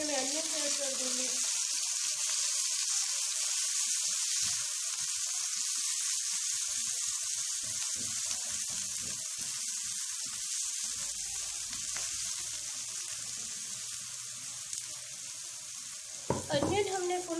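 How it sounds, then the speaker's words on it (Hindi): Green chilies frying in a pan give a steady, continuous sizzle throughout, close and fairly loud, with a brief clatter of stirring near the end and no talking. "ग्रीन चिली थोड़ी सी फ्राई होगी तो इसमें मैं अनियन ऐड कर दूँगी।"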